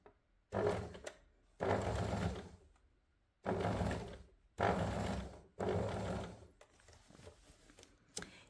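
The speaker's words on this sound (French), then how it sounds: "Donc j'assemble mon biais, je commence à le coudre donc en piquant dans la rainure, dans le sillon du repli." A sewing machine stitches bias binding onto a blouse in five loud, steady whirring runs of about a second each, separated by short pauses, close up with no talking.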